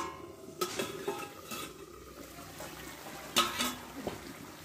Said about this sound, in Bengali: এবার দেখো ঢাকনাটা তুলে নেবো।